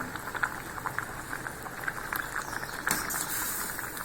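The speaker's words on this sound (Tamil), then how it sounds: "இப்போ நம்ம இதுக்கு தாளிப்பு கொடுத்துடலாம். கடுகு, கருவேப்பிலை தாங்க போட்டிருக்கேன்." Mustard seeds and curry leaves tempering in hot oil for bitter gourd sambar, a soft continuous crackle and fine popping, faint and steady, with a few slightly louder spits.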